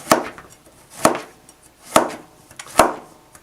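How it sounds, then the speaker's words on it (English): A knife slicing summer squash into quarter-inch circles on a cutting board, four crisp, evenly spaced chops about a second apart, close and clear. "I'm just going to cut it into circles, about a 1/4 inch thick."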